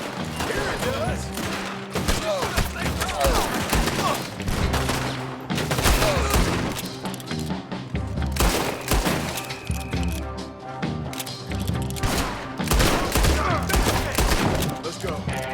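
A dense Red Dead Redemption 2 gunfight with frequent overlapping gunshots and volleys, close and loud throughout, mixed with crashing impacts and occasional voices beneath the shooting.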